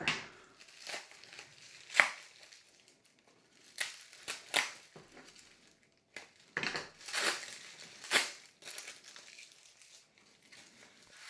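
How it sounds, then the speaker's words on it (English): Crinkly plastic packaging from a jaw harp rustles and crunches in irregular bursts with quiet gaps, close by and fairly soft. "Someone who likes to hear plastic rustling around."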